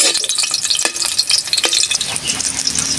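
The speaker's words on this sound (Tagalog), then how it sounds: "Pagkatapos natin gawing crispy, magigisa na tayo." Onions being sautéed in a pan crackle and sizzle while a spatula scrapes and stirs in repeated strokes, close and fairly loud, with no talk.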